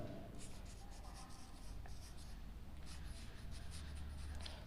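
Steady scratching of a pen or marker writing out polynomial terms in a maths lesson, continuous strokes across the clip with short pauses, fairly close.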